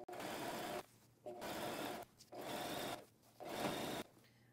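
A cheap Walmart sewing machine stitching through a quilt, running in four loud bursts of rapid needle clatter separated by short pauses, close and alone.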